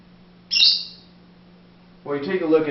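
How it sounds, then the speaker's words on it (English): A pet bird indoors gives a sharp, high chirp that trails off quickly, with a voice starting to speak a moment later. "I apologize for the bird in the background, he likes to chirp."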